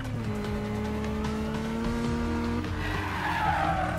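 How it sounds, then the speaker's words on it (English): A video game car drifts with a long, loud tire squeal over a droning engine during a police chase, the pitch sliding and breaking up near the end. "Make a drift turn."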